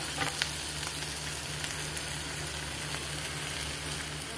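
Onion sautéing in oil over a low gas flame, a faint, even sizzle with light frying crackle and occasional soft stirring clicks, steady throughout with no voices.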